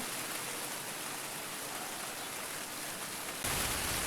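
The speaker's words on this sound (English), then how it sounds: "listen to the rain," Steady rain falling outdoors during a boat build, a dense, even hiss of drops on surfaces that holds throughout and grows slightly louder near the end, with no voices.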